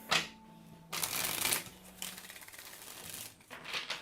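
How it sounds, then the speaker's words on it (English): A deck of tarot cards is shuffled close up in quick riffling bursts separated by brief pauses, soft and alone without talk. "All right, last shuffle."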